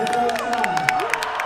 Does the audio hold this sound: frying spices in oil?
no